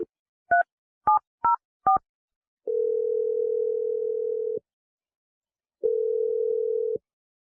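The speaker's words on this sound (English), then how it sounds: "Okay, I'm dialing it now." Four short touch-tone beeps of a telephone number being dialed, followed by two long steady ringback tones separated by silence, clean and alone with no voices.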